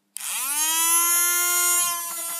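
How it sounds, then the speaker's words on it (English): A battery-powered fan motor running with its blades removed, starting abruptly and quickly rising to a loud, high, steady whine like a rotary tool, then easing slightly toward the end. "if you take the blades off, it sounds like a rotary tool. Or a vacuum cleaner."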